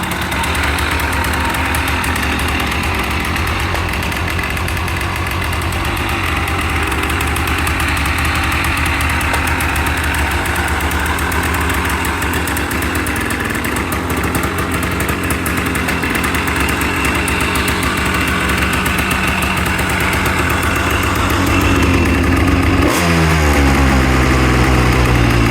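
A 1985 Honda ATC250R three-wheeler idles steadily up close with a loud, continuous engine rumble, and the tone shifts sharply near the end.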